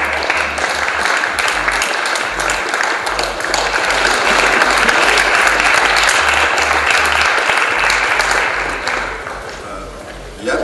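Audience applause at a university e-sports award ceremony, a dense sustained wash of clapping with rhythmic low thumping music beneath, swelling midway and fading toward the end.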